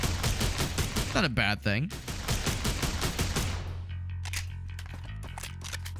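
Bullpup assault rifle firing in the game Holy Shoot, a loud rapid automatic burst of evenly spaced shots that stops after about four seconds, followed by a few quieter clicks and a brief spoken remark.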